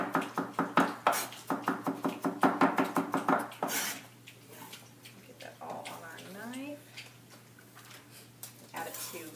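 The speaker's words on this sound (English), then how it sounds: "Cut the root ends off of the garlic, and then just mince your garlic." Kitchen knife rapidly mincing garlic on a cutting board, about fifteen quick, even chops in a steady rhythm over the first four seconds, followed by quieter handling sounds while a person talks.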